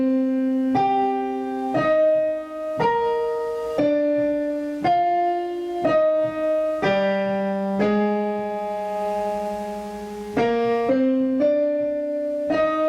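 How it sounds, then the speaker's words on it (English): Piano plays the Shin Gojira theme with octaves doubled in the right hand, a series of firm, ringing chords struck one after another at a slow, even pace, close and clear with no voices. "Now you're going to play octaves on the right hand to make it sound even better"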